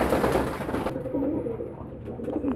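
Pigeons bathing in summer heat, with soft, low cooing close by amid splashy, rustling noise that fades after the first second, the cooing continuing at a moderate level.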